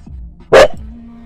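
A single loud, sharp bark from a young dog, close by, set against a quiet indoor background.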